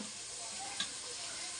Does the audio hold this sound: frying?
yes